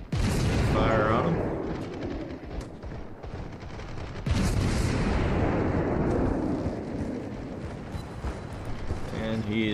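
Naval gunfire in World of Warships, loud booming salvos with explosive bursts and crackling rumble, one cluster at the start and another heavy blast around the middle, fading into lingering reverberant noise.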